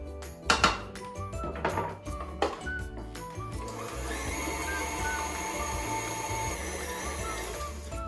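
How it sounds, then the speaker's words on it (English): A spatula scrapes down the side of a mixing bowl in a few knocking, clinking strokes, then an electric mixer whirs steadily. "every so often you're going to want to scrape down the side of your bowl just to make sure everything gets mixed in together"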